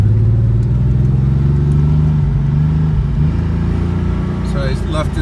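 A Porsche 964 engine drones steadily and loudly from inside the car while driving in first gear, a low continuous hum with a slight rising tone, with someone talking over it.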